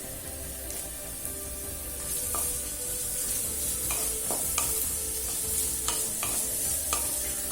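Radish, cabbage, carrot and beetroot sauté in a pan for a vegetable chutney, a steady close sizzle running throughout with occasional scraping stirs on top.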